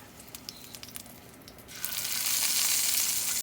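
Steak edges searing in a hot pan, held against the metal with tongs, give a soft low crackle that swells into a steady loud sizzle partway through, with no talking.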